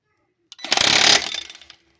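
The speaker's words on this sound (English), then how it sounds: "your air chisel from your air hammer will fit in there, and you can break away this stuff" An air chisel on an air hammer hammers loose stuck material near the rear wheel speed sensor of a 2004 Toyota Sienna, one loud rapid burst of about a second that starts abruptly and cuts off into silence.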